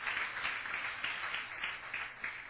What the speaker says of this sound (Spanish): bien le puedes dar una fuerte ofrenda de aplauso